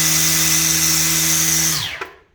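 A Makita DUX60 36V cordless line trimmer running steadily at medium speed, a loud close electric whine with a hum beneath, then winding down sharply to a stop.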